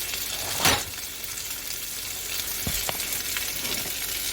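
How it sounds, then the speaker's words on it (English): Rump roast beef sears in a hot pan with a steady, loud sizzle, broken by a few sharper pops and a brief louder spatter near the start. "I'm going to do that sear on there. You just want to get a sear."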